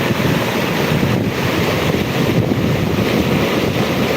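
A loud, continuous roar of rushing floodwater near a bridge, close to overflowing, with heavy wind buffeting the microphone, steady and close with no voices.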